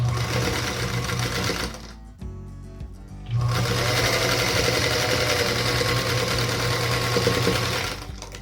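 A sewing machine runs loud and close, stitching the centre row of a 9 patch star quilt block, pausing for about a second before resuming its fast, even whir until the end.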